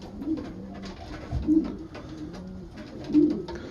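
Soft, low pigeon coos repeat every second or so, a gentle rolling murmur close by with faint background rustle.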